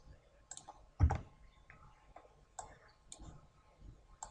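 Sharp computer mouse clicks spaced irregularly on a quiet desk, with one heavier thud and faint background noise between them.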